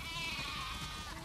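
Sheep in The Last of Us Part II video game bleat in a brief, faint, wavering call over soft game ambience, with no one talking.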